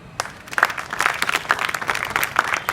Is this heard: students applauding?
yes